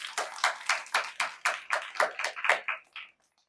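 Audience at an Arya Samaj religious gathering clapping for guests, a short run of rhythmic hand claps in regular beats that thin out and stop after about three seconds, with no voices.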